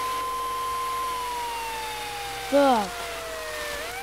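A fire truck siren in the video game GTA 3 sounds as a sustained tone that slowly slides downward, with a brief louder warble near the end and a short spoken word over it.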